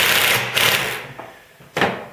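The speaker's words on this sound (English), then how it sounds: "I'll just drive the screw in and snug it up." A screw is driven into a wooden woodworking vise with a power driver, giving short buzzing whirs that stop and start, then a final quick burst as it snugs up, close and fairly loud.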